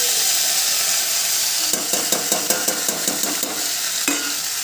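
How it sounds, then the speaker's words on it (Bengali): Ginger, garlic and chili paste sizzles steadily in a hot pan while cooking a fish and okra curry, and a quick run of rhythmic stirring scrapes clatters close up midway through. "চলো এবারে এই আদা রসুন লঙ্কা বাটা দিয়ে দিলাম।"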